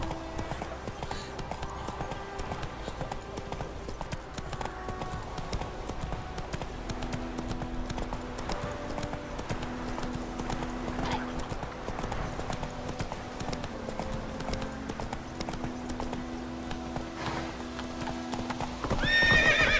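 Roach the horse gallops in The Witcher 3, hooves clip-clopping in a fast, steady rhythm over game music, with a neigh near the end.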